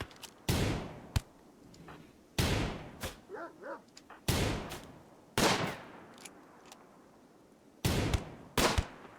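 Sharp, loud gunshots from the video game RimWorld in uneven bursts, some single and some doubled, ring out with gaps of quieter background noise between them.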